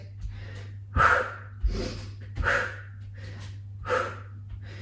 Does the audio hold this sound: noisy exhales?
yes